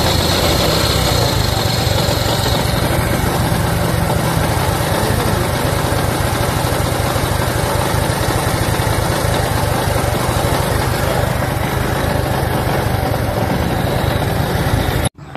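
A Bajaj CT125 motorcycle engine idles close by for the whole stretch, a constant droning rumble with no revving, cutting off abruptly at the end.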